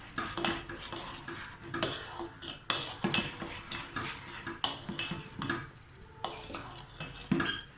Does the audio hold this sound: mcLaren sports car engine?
no